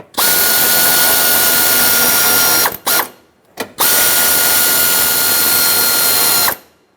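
Power drill or impact driver tightening intake manifold bolts on a 1999-2016 Ford E-350 with a 5.4L V8, two loud sustained whirring bursts with a brief stuttering pulse between them, close up and with no talking.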